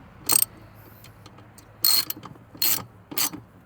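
A ratchet clicks in four short bursts, tightening a bolt on a custom bracket for a Corbeau sport seat, each burst crisp and close with brief pauses between.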